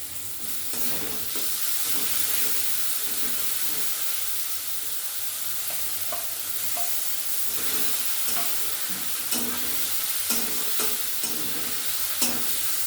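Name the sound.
frying chopped tomato with ginger and garlic in pan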